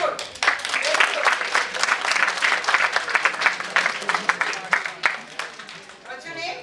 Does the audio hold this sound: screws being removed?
no